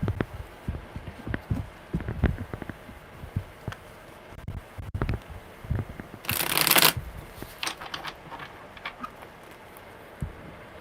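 Tarot cards are shuffled by hand in quick, crisp riffles and taps, with a louder riffling flurry partway through, close and dry with no talking.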